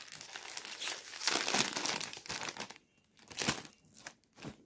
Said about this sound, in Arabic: نفتح الكيس رقم 6